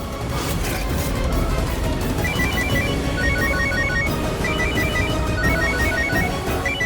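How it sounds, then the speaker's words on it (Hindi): A repeating electronic phone ringtone plays in short melodic bursts over a dense, noisy background, steady and fairly loud throughout. "सरपत भैया को फोन लगाती हूँ।"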